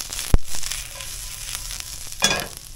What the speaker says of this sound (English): we'll start sauteing our pierogies.